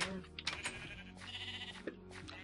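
Sheep bleat in a Minecraft-style video game, several short wavering cries overlapping one after another, fairly close, with clicking keys or game noises around them.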